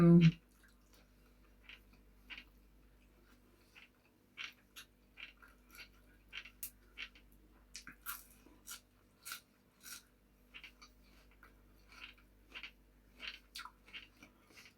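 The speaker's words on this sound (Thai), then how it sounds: "เคี้ยวดังก๊อดๆแล้ว" Loud, crunchy chewing of larb pork with fresh vegetables and garlic close to the ear, in a steady run of separate bites and munches with short pauses between them.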